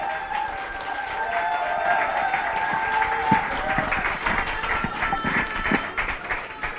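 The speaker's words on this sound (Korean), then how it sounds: "박수가 커서 다시 부탁 안 드려도 될 것 같습니다" A crowd claps at a regional campaign rally for party leadership elections, moderately loud applause running throughout, with a faint tonal hum and scattered louder claps.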